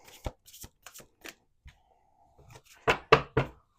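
Cards being shuffled in short bursts, a few soft flicks and taps followed by a louder riffle near the end, with no talking.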